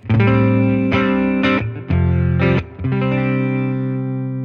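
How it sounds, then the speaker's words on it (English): Loud electric guitar through a clean boost pedal with extra treble, a boosted, slightly driven tone, plays a series of punchy chords, the last one sustaining and ringing out. "Sometimes I take the treble down a lot in my clean boost just to give it that added oomph"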